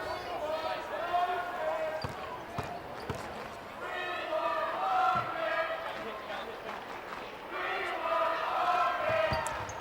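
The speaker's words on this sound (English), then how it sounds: "We hear the We Want Hawkins chant from the crowd now" A large indoor crowd at a men's college basketball game chants a player's name in rhythmic waves, swelling and fading several times over a steady roar, with a few sharp thumps mixed in.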